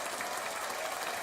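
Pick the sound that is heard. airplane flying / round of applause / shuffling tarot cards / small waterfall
round of applause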